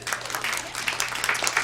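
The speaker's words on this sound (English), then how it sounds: "Go ahead, give them a round of applause." A brief burst of audience applause rises at a live concert event, a dense, fairly loud patter of many hands that holds steady for a moment.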